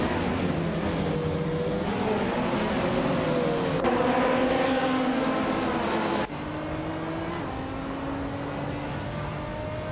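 A 2019 Jetta G55 Super Cup race car engine in a racing video game drones steadily and loudly, its pitch shifting through gear changes as it holds speed among other cars, with no voices present.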